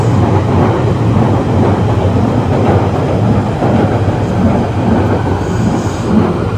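Trains roll along busy railway lines beside a London station, a loud continuous rumble of wheels on track with faint squeals and clatter, heard up close with no voices.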